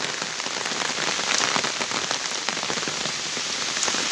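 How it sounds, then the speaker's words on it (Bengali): Steady rain falls on a village road, a dense, continuous patter of drops hitting the ground at close range with no voices. "আস্তে আস্তে বৃষ্টি বাড়তেছে।"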